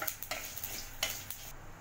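Soft sizzling with scraping stir strokes and light clinks of a utensil against a pan as ingredients fry until golden, a few sharper taps punctuating the quiet frying.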